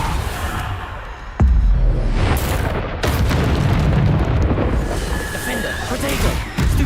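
A Bombarda spell detonates in Hogwarts Legacy with a sudden loud boom near the second mark, followed by rumbling blasts and debris noise in a dense fight mix, with a voice speaking over parts of it.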